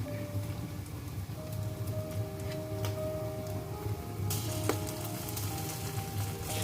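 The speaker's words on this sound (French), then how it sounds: "Bon, là, je vais faire frire ma tomate" Canned tomatoes fry in a pan with a steady, dense sizzle, like light rain, continuing throughout with a brief scrape of a spoon near the end; no one speaks.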